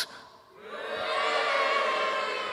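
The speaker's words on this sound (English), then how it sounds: "Can you give us a cheer through your kind of masks?" A live church congregation at a third-birthday livestream breaks into cheering and shouting, rising after a short quiet moment into a sustained, fairly loud crowd roar that holds to the end.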